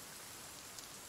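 Rain in the survival video game The Forest, a faint, steady patter and hiss of falling rain, soft and even with no voices over it.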